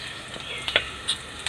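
Chopped onion and garlic sizzling in butter for chicken, a soft steady crackle with a few brighter pops and a light stir or two, close and fairly quiet.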